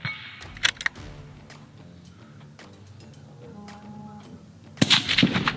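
Rifle practice at a range: distant shots followed by faint bullet impacts on a target, a few sharp cracks spaced apart with a louder burst near the end, set against quiet outdoor background.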